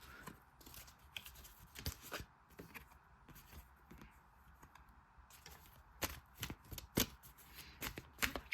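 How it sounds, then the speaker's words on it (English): Crisp riffling and snapping of playing cards being shuffled, repeated bursts close up with soft handling noise between them. "I am awful at shuffling."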